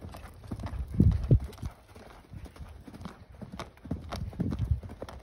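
A horse canters, its hooves giving repeated rhythmic clip-clops on the ground at close to medium distance, with no talk during the passage.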